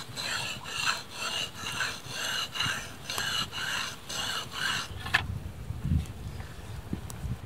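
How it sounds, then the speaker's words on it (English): A knife is stroked over a sharpening stone for a convex edge during a camping and kayaking trip in Canada, with rhythmic repeated gritty rasps, close, ending with a few softer handling sounds. "now let's do some convex sharpening"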